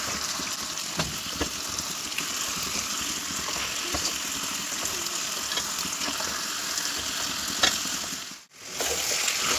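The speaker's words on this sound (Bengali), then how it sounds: "এখন মাংসটা দিয়ে নিলাম।" Chicken pieces frying in a spiced masala in a pan, a steady loud sizzle with occasional stirring scrapes running throughout, briefly dipping near the end.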